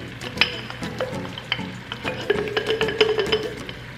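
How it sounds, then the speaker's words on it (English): Tikka masala sauce being scooped from a container into a pan, with steady scraping and clinking of a utensil against the vessel over a soft sizzle, close and continuous. "I'm just gonna scoop the rest of this sauce out."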